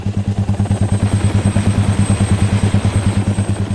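An Air Force Reserve rescue helicopter on a mountain rescue at Mt. Hood, its rotor beating in a fast, steady, heavy chop with a deep engine drone. It sounds close and loud, with no talking.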